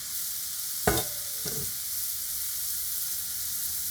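Carrots tipped into a pot of lamb stew meat, a couple of quick clattering thuds near 1 and 1.5 seconds over a steady broad sizzle that continues alone to the end.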